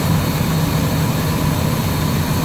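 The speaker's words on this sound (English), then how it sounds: "Definitely is running a little smoother in idle" RV engine idling at about 900 RPM after a fuel line repair, a steady low rumbling hum that stays loud and even.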